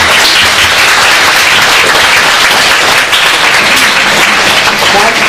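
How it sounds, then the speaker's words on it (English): Loud, dense applause from a dinner audience fills the room, a continuous wash of clapping hands that carries steadily throughout. "can I get a round of applause for the people who wash the dishes?"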